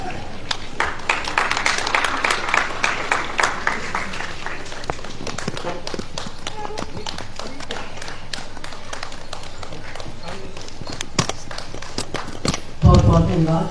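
Enthusiastic audience applause at a Hindi lecture event, a dense wash of clapping filling the room behind an announcer's voice, swelling early and continuing steadily before a brief rustle at the end.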